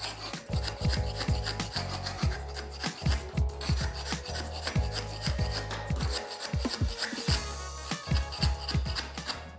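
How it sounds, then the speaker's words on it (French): A plasterer's curved rasp float scraping render off concrete blocks, a rapid run of rough rasping strokes, close and loud, without pause for nearly ten seconds. "Je prends mon riflard, je le mets donc en position scrapper pour pouvoir rentrer finalement dans le support"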